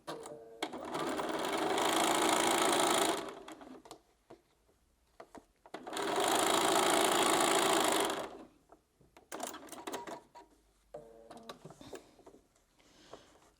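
A sewing machine stitches quilt block pieces together in two long, steady bursts of rapid whirring, then a few shorter stitching runs broken by quiet pauses and small handling clicks.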